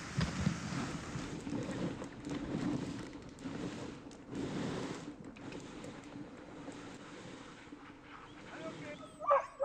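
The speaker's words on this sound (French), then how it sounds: "Les chiens ne sont pas de cet avis, ils nous donnent le signal du départ." Sled dogs bark eagerly during a rest stop on a caribou trail in Québec, a restless chorus of yaps running throughout amid wind noise, with a person's voice audible at moments.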